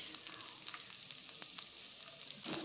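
Onions crackle and sizzle steadily in hot oil, a close, continuous frying hiss with small pops and a brief stirring scrape near the end.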